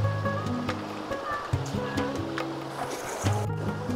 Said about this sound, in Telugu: వాటర్ చూడొచ్చు మీరు ఎంత ఫాస్ట్గా అయితే వెళ్తున్నాయో